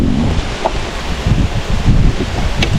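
Strong wind buffets the microphone on a half-day fishing trip at sea, a steady loud roar with rumbling gusts and faint rustle throughout.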